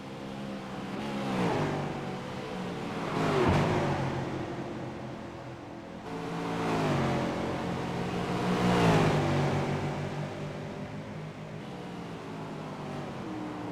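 V8 Supercar racing on the final lap at Mosport in a racing video game, engine note climbing through gears and dropping on shifts, swelling twice as cars pass close, steady and continuous.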